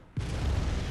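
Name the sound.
explosion in the video game Bloodborne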